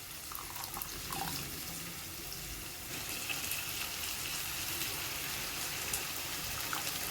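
Water trickles and splashes steadily as it is drained off dried shrimp (sukha jawla) that are being added to a cooked home-style non-veg dish, a continuous close hiss with no voices.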